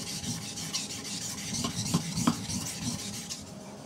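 A knife blade, a BK-17, being sharpened on a Chosera 400 whetstone: steady rhythmic rasping strokes of steel across the wet stone, close and moderately loud, with a few sharper scrapes and no speech.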